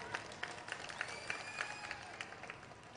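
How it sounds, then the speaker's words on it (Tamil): Audience clapping and cheering at a Makkal Needhi Maiam public political meeting in Trichy, Tamil Nadu; a moderate, steady wash of applause with scattered sharper claps throughout. "இதுக்கு இன்னும் பெரிய கைத்தட்டலை எதிர்பார்த்தேன்."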